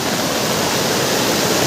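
Heavy rainwater rushes through a small village stream during a downpour, a dense, constant roar with no pauses.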